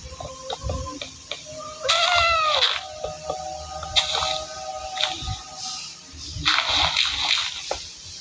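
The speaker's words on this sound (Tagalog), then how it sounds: "Pusa. Di ko alam ba kung saan yan nanggagaling." A cat meows several times in drawn-out, wavering calls, close and fairly loud, with splashing water and knocking sounds around it.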